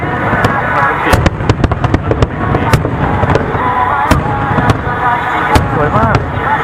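Fireworks display over Lake Suwa in Japan, set to Kimi no Na Wa music, with many sharp bangs and crackles at irregular intervals over a dense background, crowd voices chattering throughout.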